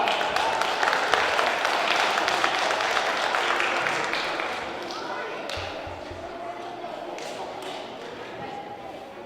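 Schoolchildren at Saint Agnes school burst into a loud round of applause after a magic trick in which a green rabbit is pulled from an empty hat; the dense clapping fades after about four seconds while voices carry on.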